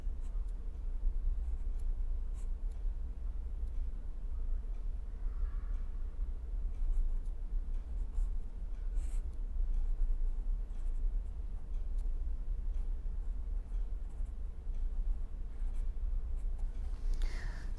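Chalk or marker writing on a board during a physics lecture on vibrations of a rectangular membrane, a long stretch of faint scratchy strokes and light taps over a low room hum, with no one speaking.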